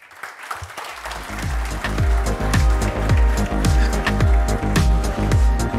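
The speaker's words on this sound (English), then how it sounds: "give it a round of applause for Freek." Conference audience applause after a talk swells and holds, mixed with a rhythmic, bass-heavy music track pulsing underneath.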